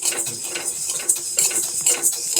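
Raw rice is stirred and tossed in a clay roasting pan in a village kitchen, giving a steady run of dry scraping, rustling and light clinking strokes that come in irregular bursts.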